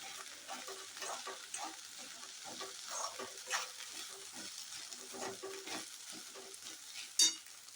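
Grated roasted fresh coconut stir-frying with okra, turmeric and coriander leaves, soft crackling sizzle with repeated spatula scrapes against the pan, fairly quiet, ending in a sharp utensil tap.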